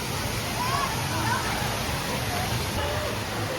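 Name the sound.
water park tipping bucket filling and dumping water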